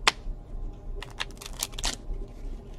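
A deck of playing cards being shuffled during a card trick, a sharp flick followed by a quick series of crisp riffling bursts close to the microphone, with no talking.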